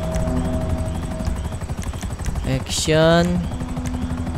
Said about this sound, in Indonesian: Ini nih on helikopter.